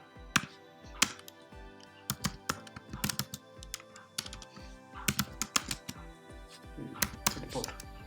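Keys clatter on a computer keyboard as code is typed, irregular bursts of close, sharp taps with brief pauses, while someone talks quietly in the background.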